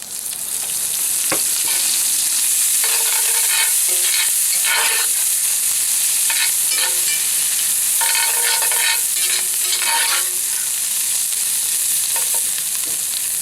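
Celery and onion frying with oil in a cast iron pan: a loud, close, continuous sizzle broken by repeated scraping and stirring bursts as the vegetables are pushed around, with no talking.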